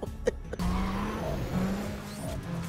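Golf VII Clubsport launching off the line in the racing game Need for Speed: World, a steady engine drone rising in pitch through gear changes, loud and close with no talk.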